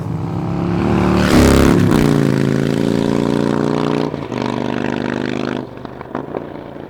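A Harley-Davidson Sportster motorcycle engine revs loudly and close up, climbing in pitch, holding a steady drone, then dropping back toward idle with a few trailing pops.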